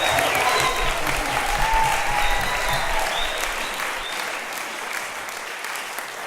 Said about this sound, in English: I'd just like another quick round of applause